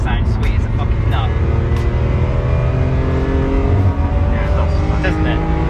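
A BMW E46 M3 engine revs and roars continuously up close at the Brands Hatch GP circuit, its pitch climbing and settling, with a voice talking over it.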